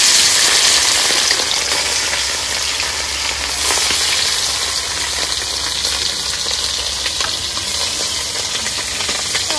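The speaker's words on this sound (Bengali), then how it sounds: "কড়াই গরম হয়ে গেছে, সর্ষের তেল দিয়ে দেবো। এগুলো ভেজে নেবো। বান মাছগুলো প্রথম ভাজবো।" Eel pieces fry in hot mustard oil in a wok, a loud, continuous close sizzle and hiss with faint crackles and occasional stirring, and no voices over it.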